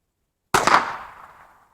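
Single crack of a subsonic .22 LR rifle fitted with a Sightmark Wraith scope, a sharp close report with a short decaying tail, alone in silence.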